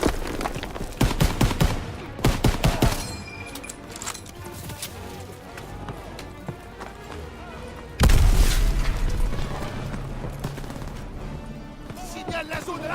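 Rapid gunfire and heavy artillery booms from the World War II video game Call of Duty WW2, with dense volleys early on and a big explosion midway, while voices shout over the battle.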